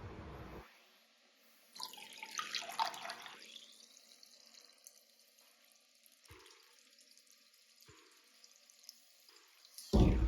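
A regular-size high toilet tank refills with water: a rising hiss and rush of inflow, then steady trickling with a few soft clunks and drips, close by and without speech, ending in a louder burst.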